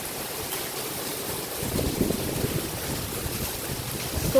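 Heavy rain and strong wind in a flood-prone place without drainage, heard as a steady, dense roar of rushing rain and gusting wind that swells midway and keeps up throughout.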